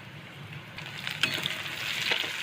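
Onion with ginger-garlic paste sautéing in a hot pan gives a soft, steady sizzle and hiss that builds slightly toward the end, close by with no talking.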